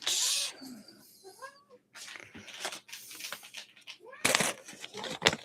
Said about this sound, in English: as you can probably hear, the cat is getting her own way